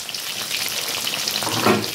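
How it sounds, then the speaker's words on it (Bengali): Tilapia fish pieces fry crisp in hot oil, giving a close, continuous crackling sizzle that is steady and fairly quiet, with no voice over it. "মাছগুলো কিন্তু কড়া করে ভাজতে হয় বন্ধুরা"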